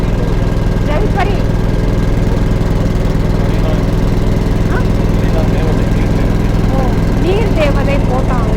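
Engine of the Jalpari tourist boat on the Ganges at night, a steady, loud low drone running without a break, with faint voices and a few brief higher sounds over it.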